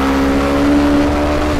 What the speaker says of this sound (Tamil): ஃபர்ஸ்ட் கியர்ல இந்த பைக் எவ்வளவு போடுறோம் பார்க்கலாம்.